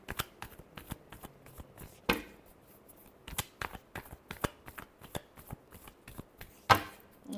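Tarot cards being shuffled by hand, a rapid run of crisp riffling flicks and soft slaps, close and fairly quiet, with a few sharper bursts standing out and no talking.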